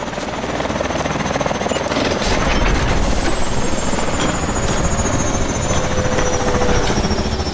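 Loud, steady helicopter rotor chop with a whining engine in the video game Call of Duty: Advanced Warfare, constant and close throughout, no voices.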